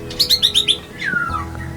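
Songbirds such as canaries chirp close by in a quick series of five bright, evenly spaced notes, then one longer descending whistle, with a faint steady hum underneath.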